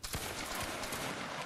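A musket volley fired in a Waterloo battle video game, a short burst of crackling gunfire with a sharp onset followed by a dense rolling roar that fades out.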